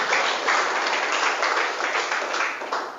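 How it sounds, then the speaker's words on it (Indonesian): Crowd applause at a religious lecture in Indonesia, a dense wash of clapping for about three seconds with slight swells and no speech over it. "Tepuk tangan dulu."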